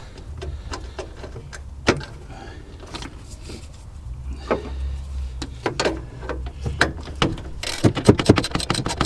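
Ratchet wrench clicking in quick bursts while tightening radiator mounting bolts on a car, sharp metallic ticks close by with some clanks and pauses between strokes.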